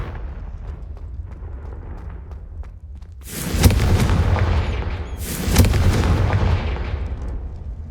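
Confringo explosive spell blasts in Hogwarts Legacy, two deep booming bursts about two seconds apart, each loud and close with a rumbling decay over a steady low ambient drone.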